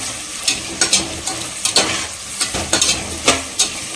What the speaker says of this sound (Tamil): ஆனியன் வந்து வதக்கலாம்